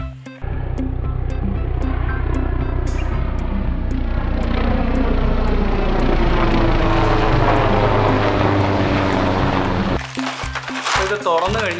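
A cheap 200-rupee toy helicopter, launched by hand, gives a loud, close, high motor whine with shifting pitch for about ten seconds, then stops abruptly, leaving some clicks and handling noise.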